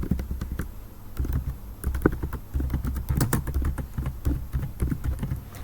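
Fast, close typing on a computer keyboard as a page title is entered, a quick uneven patter of key clicks with brief pauses, no voice over it.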